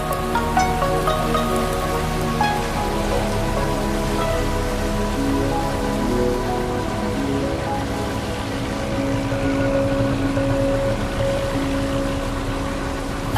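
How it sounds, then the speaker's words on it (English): Steady rain from a thunderstorm in the Mekong Delta, Vietnam, pours down, dense and unbroken, with a low rumble and some tonal sounds layered beneath the downpour. "The rain provides a welcome, though brief, respite from the hot sun"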